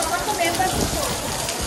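Heavy rain pours steadily during a Kolkata downpour, heard from a sheltered spot with a wash of dense, close drumming on surfaces, gusty wind and faint voices mixed in.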